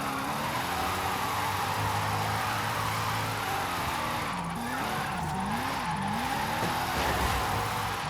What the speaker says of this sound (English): The LS in this thing is also really, really raspy.